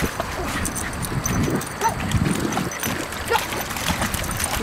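A dog whimpers and lets out short yips outdoors over a running-water trickle, with a voice talking close by.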